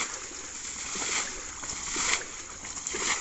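Water bailed by bucket from a drying fishing pond, with repeated sloshing and splashing scoops, steady and fairly close, no voices.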